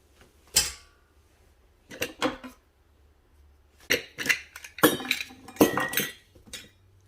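Kitchen utensils, including whisks and a strainer, clink and clatter in several separate bursts while being sorted, close and fairly loud with short quiet gaps between.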